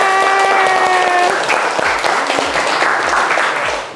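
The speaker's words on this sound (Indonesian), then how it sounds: "Kita tepuk tangan buat kita semua." Classroom applause from a group of students, a dense burst of clapping that fills the whole stretch, loud and close, with a brief tonal sound fading at the start.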